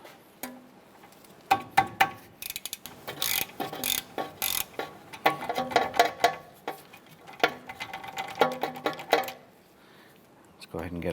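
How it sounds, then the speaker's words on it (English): A hand ratchet loosens the 10mm ABS sensor bolts at the front wheel hub of a 2008-2012 Honda Accord, with quick clicking bursts and metallic clinks up close, under intermittent talk. "We're gonna remove these two 10mm bolts."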